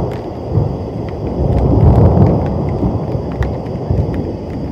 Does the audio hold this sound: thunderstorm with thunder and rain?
yes